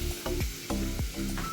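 Food sizzles steadily while frying in a pan in a home kitchen, with a few sharp utensil scrapes and clanks against the pan over the continuous hiss.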